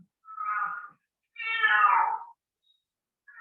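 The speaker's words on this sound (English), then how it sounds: "That's my cat." A pet cat meows twice indoors, two clear drawn-out calls close to the microphone, with a third starting at the end, no talk around them.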